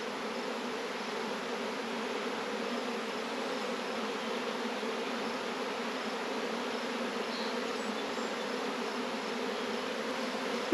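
A dense, even hum of many honey bees crowding a hive frame while a swarmy nuc is split into new hives, close and steady throughout with no voices.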